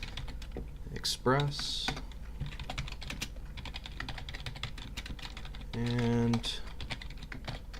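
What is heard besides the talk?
typing on a computer keyboard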